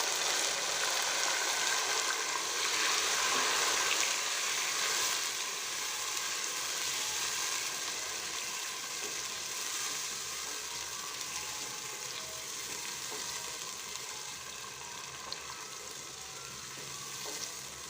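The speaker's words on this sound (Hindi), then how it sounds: "प्याज अब गोल्डन ब्राउन हो गई है, तो अब मैं इसमें टमाटर ऐड कर दूँगी।" Four medium tomatoes frying with golden-brown onions for restaurant-style daal mash, a continuous soft sizzle with faint stirring, steady and moderately quiet, easing slightly over time and free of talking.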